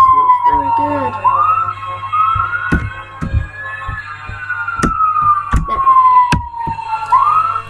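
A wailing emergency siren rises and falls slowly in a game, accompanied by sharp clicks and thumps and a low steady hum.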